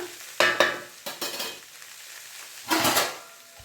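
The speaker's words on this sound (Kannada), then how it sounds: "ಒಂದು ಎರಡು ನಿಮಿಷ ಚೆನ್ನಾಗಿ ಮಿಕ್ಸ್ ಮಾಡಿ" Batter for an alasande kalu (black-eyed pea) palya being stirred in a pan over a low flame: scraping spoon strokes in short bursts over a soft, steady sizzle, close up with no voices.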